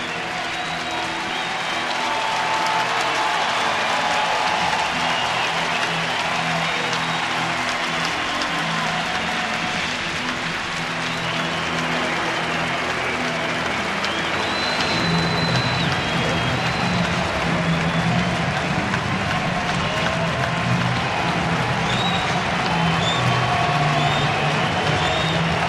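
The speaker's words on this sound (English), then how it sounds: "who will exit and get a standing ovation once again from this very appreciative crowd" A baseball crowd gives Paul Konerko a sustained standing ovation, dense roaring applause and cheering from a large stadium audience that holds steady for the whole stretch.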